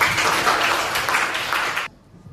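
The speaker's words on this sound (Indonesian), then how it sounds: "tepuk tangan untuk kita" Children in a Qur'an lesson clap their hands together in a brisk burst of group clapping that runs for about two seconds and then stops abruptly, leaving near silence.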